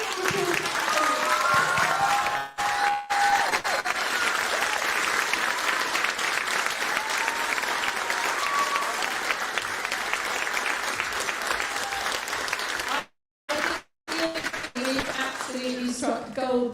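A concert audience at a street band showcase gives long, hearty applause for the band, a full, sustained roar of clapping with a few whoops, broken by brief dropouts near the end.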